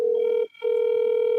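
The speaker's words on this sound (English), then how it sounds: "if it just keeps ringing, doesn't go to his voicemail" A phone line rings back with a steady electronic tone while a call goes unanswered, the tone breaking once briefly before resuming, loud and close with no talk.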